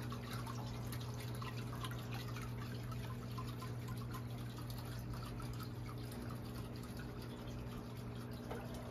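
A small garden water feature from Home Depot trickles and drips steadily on a San Antonio patio, a soft continuous splashing under a faint steady hum, fairly quiet and close, with no talk.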